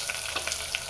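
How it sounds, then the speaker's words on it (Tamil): Sliced large onions fry in hot oil in a pan, giving a close, steady sizzle with soft crackling pops and a light stirring sound, all without any talking. "இப்போ நல்லா பொரிஞ்சதுக்கப்புறம் பெரிய வெங்காயத்தை சேர்த்துக்கோங்க."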